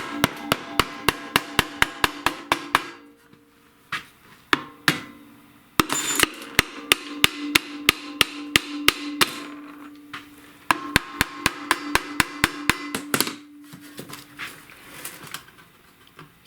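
Rapid bursts of sharp, close metallic taps strike a Briggs & Stratton snowblower engine cover, coming in quick even runs separated by brief pauses, with a few louder single knocks.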